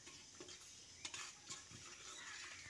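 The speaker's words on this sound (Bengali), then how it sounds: "এই গরম তেলের মধ্যে গোটা গরম মশলাগুলো দিয়ে দিচ্ছি। কয়েক সেকেন্ড ভেজে নিচ্ছি।" Whole cumin, cardamom and cinnamon sputter in hot oil in a pan, a steady soft sizzle with a few sharp crackles and light stirring clinks, close and continuous with no talking.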